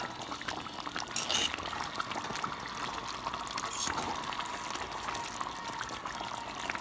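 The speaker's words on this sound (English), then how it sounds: "Let the gravy cook down a little bit more." Smothered pork neckbones simmering in gravy, a steady close bubbling and crackling hiss with soft liquid pops throughout, no talking.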